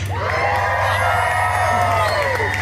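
Theme-park audience at Disney California Adventure cheering and whooping for Deadpool, a dense continuous roar of many voices with shouts rising above it, loud and close throughout.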